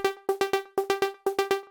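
A synthesizer sequence preset called Sequence Upper, set on G for a melodic house track, pulses through a rhythmic pattern of short plucked notes in groups of three, bright and close with quick decays, alone without voices.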